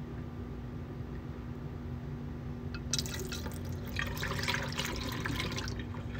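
Tea poured down a bathroom sink, a soft splashing trickle of liquid that starts midway and runs for a few seconds over steady background hiss.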